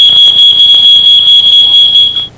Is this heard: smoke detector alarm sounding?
yes